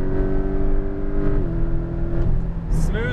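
A Porsche GT2 RS or Lamborghini Aventador SVJ accelerating on a Las Vegas race track, engine tone climbing close and loud, then dropping as it upshifts, with a higher rising whine near the end.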